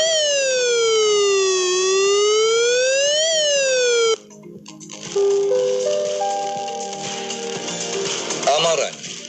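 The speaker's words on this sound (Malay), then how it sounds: "Pertama, bunyi siren amaran." Flood warning siren sounding a loud, steady wailing tone that rises and falls in long sweeps for about four seconds, then cuts off; afterwards a rattling, clattery noise and short tonal beeps follow under what sounds like talk.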